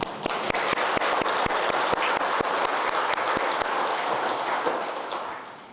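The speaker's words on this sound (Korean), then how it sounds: "감사의 마음을 박수로 보내고 싶습니다" A church congregation at a Korean Sunday service applauds in thanks, a long sustained round of many hands with sharp individual claps standing out, gradually tapering off toward the end.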